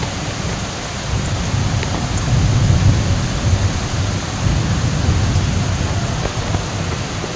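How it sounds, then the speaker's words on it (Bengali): Heavy evening rain pours steadily at home, a dense continuous roar with low rumbling thunder swelling beneath it, no voices present. "সন্ধেবেলা দেখি জোরালো বৃষ্টি হচ্ছে"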